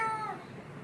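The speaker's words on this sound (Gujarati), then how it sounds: "બિલાડું" A single short meow from a house cat, close and fairly soft, with a clear tonal cry that fades into quiet background.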